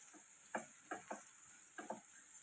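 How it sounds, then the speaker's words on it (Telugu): Ivy gourd and egg fry being stirred in a pan, a few soft scraping strokes in irregular bursts over a faint steady sizzle, close and quiet. "మధ్య మధ్యలో ఇలాగా మూత తీసుకొని మనం కలుపుకుంటూ ఉండాలి"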